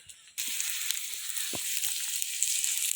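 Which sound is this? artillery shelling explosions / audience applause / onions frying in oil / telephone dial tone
onions frying in oil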